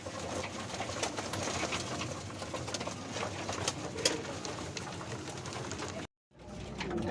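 Young pigeons at feeding time scramble and coo in a loft, a dense continuous flutter of wings and soft cooing throughout, briefly cut off near the end before resuming.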